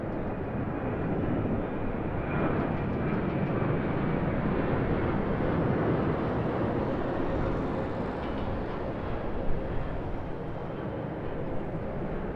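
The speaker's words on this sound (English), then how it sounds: "The Airbus A320neo of Air New Zealand heading out." An Air New Zealand Airbus A320neo takes off at Sydney Airport, its steady, broad jet roar sustained and loud throughout with no break or voices.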